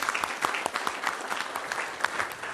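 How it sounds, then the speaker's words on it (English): A city council chamber audience applauds the fire department with a moderate, steady patter of many hands at middling loudness and no speech over it. "I do want to give a round of applause also to our fire department for their amazing work that night as well."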